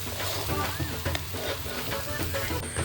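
Pork liver with masala fries and sizzles steadily in a pan while it is stirred, a constant close crackle broken by scraping strokes and a few brief clicks.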